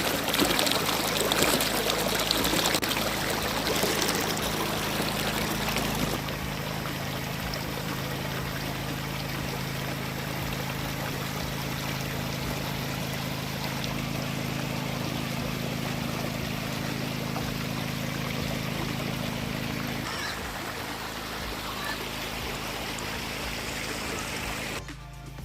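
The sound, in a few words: calm river flowing upstream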